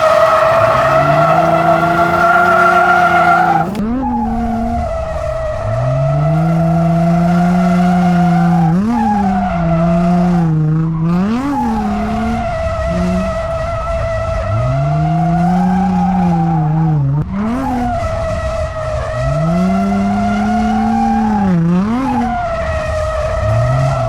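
An Infiniti G35 drifts around a race track, its engine wailing and surging through repeated revs while the tires squeal loudly and continuously in long slides, close and unbroken.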